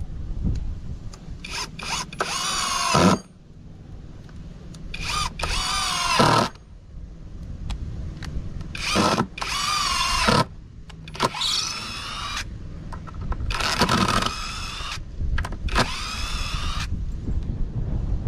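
A Parkside cordless drill driver from Lidl drives screws in a series of loud whirring bursts of varying length, each rising in pitch and stopping abruptly, with short pauses between runs and no talking.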